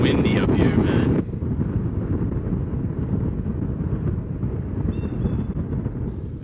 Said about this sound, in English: It's windy up here, man.